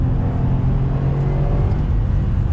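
A 2020 Subaru WRX STI engine rumbles and whirs steadily as it downshifts into third gear, a continuous close-up drone with a slight rev swell and no voices.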